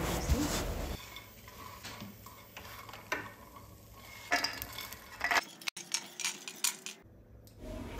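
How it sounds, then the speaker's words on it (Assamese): Fox nuts (makhana) frying in ghee in a pan, with scraping stirs, clinks of a utensil against the pan and soft crackling that come and go over a low, steady background. "ইয়াতে এতিয়া ভাজি ল'ম মাখানাখিনি মাখানাখিনি অলপ সময়ৰ কাৰণে ভাজি ল'ম মচমচীয়া হোৱালৈকে"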